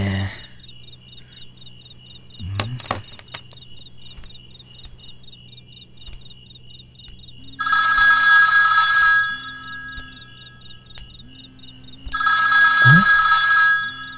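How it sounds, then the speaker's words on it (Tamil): A switched-off mobile phone rings in a horror-film scene, two bursts of bright electronic ringing with a steady chirping, cricket-like tone beneath, fairly close and loud, separated by quieter stretches. "ஆஃப் ஆன ஃபோன் ரிங் ஆகுது."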